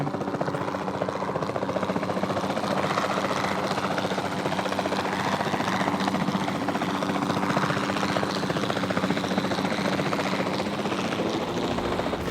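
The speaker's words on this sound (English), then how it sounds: "Then the sensible thing is to take a capture team helicopter." A capture team helicopter in Jurassic World Evolution 2 hovers with a steady, loud, droning rotor chop and engine whine, continuous and close throughout.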